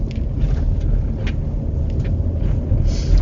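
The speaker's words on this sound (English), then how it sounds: "And you could hear it hitting on every cylinder, boom, boom, boom." A Hyundai car built up as a speed racer, with poor mufflers, rumbles loudly nearby in a steady, deep drone.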